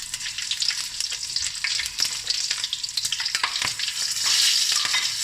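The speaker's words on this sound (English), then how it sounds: "Now the oil is really hot, and I'm just literally going to throw in all the spices" Whole spices, including bay leaves, green and red chilies, cardamom pods, cloves, cinnamon stick and star anise, crackle and sizzle in very hot oil, a bright continuous frying hiss with sharp pops, close and alone.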